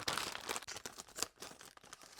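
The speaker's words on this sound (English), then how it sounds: "I'm going to close my eyes and give them a shuffle." Foil blind-bag packs of series 2 mystery figures shuffled together in the hands, giving close, continuous crinkly rustling with sharper crackles, no voices.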